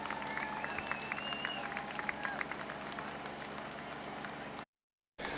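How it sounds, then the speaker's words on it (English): Stadium crowd at a high school football senior night applauding the graduating cheer and spirit squad, a steady wash of clapping and crowd noise with whistle-like tones over it, cutting off briefly near the end. "a final round of applause for our 2024 Oceanside Spirit and Cheer Squad senior class."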